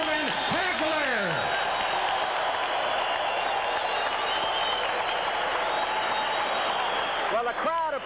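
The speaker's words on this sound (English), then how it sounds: "the crowd appreciative of a very worthy champion" A boxing crowd applauds the middleweight champion after a technical-knockout decision, sustained loud clapping and cheering that fills the arena, with an announcer's voice talking over it.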